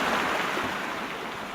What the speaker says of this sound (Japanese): 水の音が結構でかい。